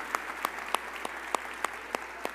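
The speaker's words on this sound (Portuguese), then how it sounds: "aplauda o Senhor mais forte e mais bonito" A church congregation claps for the Lord during a Pentecostal-style seminar service, producing a steady, evenly spaced run of sharp, fairly faint claps over a soft room hush.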